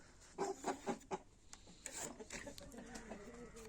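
Chickens and roosters in a coop, newly put together, let out several loud clucks in quick succession, then settle into a steady run of softer clucking and chatter.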